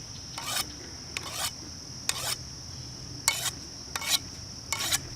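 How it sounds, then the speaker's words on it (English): Six separate rasping strokes of a file sharpening an antique blade, each a short scrape with a bright metallic ring, spaced about a second apart over a low background hum. "I don't know if I'm even sharpening this right."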